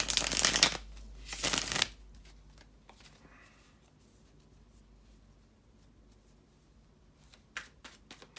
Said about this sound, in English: bear with me just a couple of seconds, guys, to shuffle the tarot cards